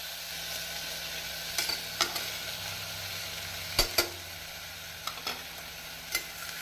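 Radish and tomato frying in a pan for mullangi sambar, a steady soft sizzle with a few sharp scraping stirs of a spoon against the pan.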